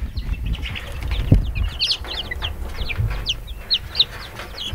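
Baby bantam chicks and turkeys in a brooder give a dense chorus of high peeping and cheeping close up, with a few low bumps and rustles beneath.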